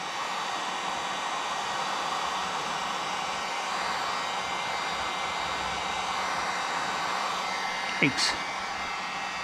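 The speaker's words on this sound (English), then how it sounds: "The heat does well to get the little tiny bumps kind of massaged away." A heat gun warms a vinyl stripe on a 2020 Ford Shelby GT350R, giving a steady, close broadband whoosh of blown hot air throughout, with a brief spoken exclamation near the end.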